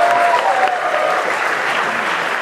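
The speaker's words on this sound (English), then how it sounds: "clap for Analog, for sure." An awards ceremony audience claps loudly and continuously, a thick wash of hands filling the room at an even level for a couple of seconds.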